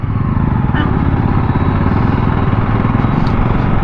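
A Yezdi Adventure 300cc motorcycle engine throttles and revs, a loud, close, steady mechanical drone that holds throughout while someone talks over it.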